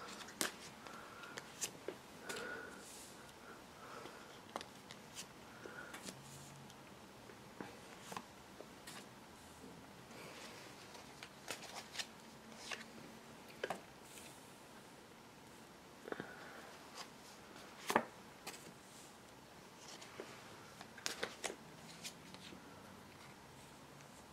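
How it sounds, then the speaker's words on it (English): Soft, irregular rustling and flicking of tarot cards being shuffled close by, with scattered sharper snaps and taps, quiet and steady throughout. "Just shuffling the cards."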